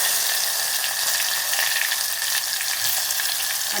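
Garlic frying in hot oil in a mustard-seed and cumin tempering for moong masoor dal, a steady close sizzle that runs unbroken with no talking.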